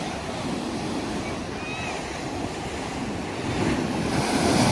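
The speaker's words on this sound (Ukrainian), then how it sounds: "Розгуляло щось море сьогодні дуже." Rough storm surf on the Black Sea at Lanzheron beach, Odesa, roars continuously, with broad wash of waves and some wind noise building slightly toward the end.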